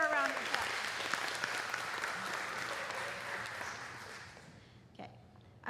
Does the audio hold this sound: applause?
yes